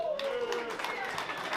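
Live audience at a stand-up comedy show breaking into applause, a dense broadband wash of clapping filling the whole moment at steady loudness.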